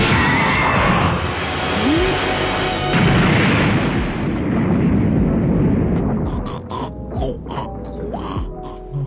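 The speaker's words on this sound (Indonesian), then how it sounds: "langsung meledak yang membuat ledakan cukup besar di ruangan waktu" A loud, booming Dragon Ball Z cartoon blast erupts at once and rumbles heavily, then slowly dies away into scattered crackles and thuds.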